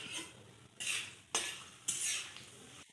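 Torn bay leaves, dried red chillies, whole garam masala and black peppercorns hit hot oil for a tempering, giving a few sharp bursts of close sizzling that rise suddenly and slowly fade, with no talking.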